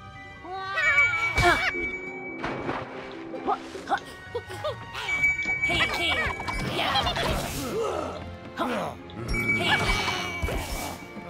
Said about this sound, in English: I hear a ringing whenever I'm underneath it.